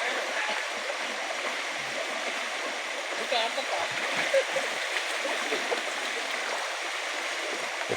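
Backwater lake water inside a forest splashes and laps gently in a soft, continuous wash, fairly quiet and close, with small splashes scattered through it.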